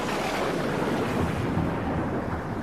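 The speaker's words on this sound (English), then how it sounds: "The sky is black with rain now, but Ahab laughs at the rain and at the white lightning in the sky" A thunderstorm with heavy rain roars as a loud, dense, steady rumble, with no distinct thunderclaps standing out and no voices.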